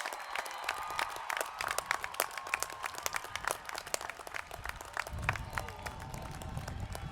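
Scattered applause from a crowd at a high school commencement ceremony for graduates, with sharp, irregular claps continuing steadily throughout at moderate distance.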